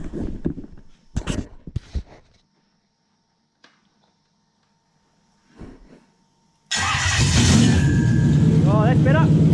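A Toyota 1UZ V8 running on a Link ECU cranks after quiet pauses with faint voices and shuffling, then catches and fires into a loud, steady idle with rising revs.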